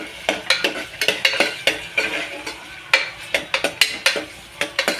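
Avarekalu beans being stirred and fried in a pan, with a steady sizzle under a quick, regular run of spatula scrapes and clinks against the metal, close and fairly loud; no talking.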